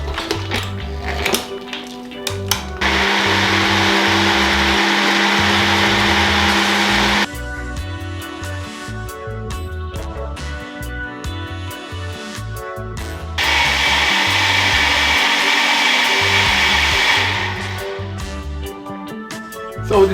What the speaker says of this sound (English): So I'm just gonna put this on the blender now.